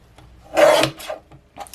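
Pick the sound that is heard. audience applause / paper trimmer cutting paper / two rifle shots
paper trimmer cutting paper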